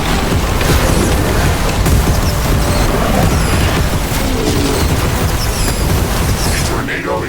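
Base tower in the Riftbreaker game destroyed under attack by an insect swarm, a loud, dense, continuous rumble of explosions and crashing with booms throughout, under a voice speaking.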